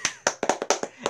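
Eight sharp hand claps in an uneven rhythm over about a second, close and fairly loud, each a crisp broadband snap with no voices.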